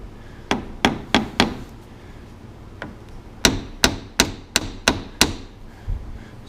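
A hammer tapping on a part of a 1990 Ford F350 crew cab truck, sharp metallic knocks in two quick bursts, about four blows and then about six, with a short pause between.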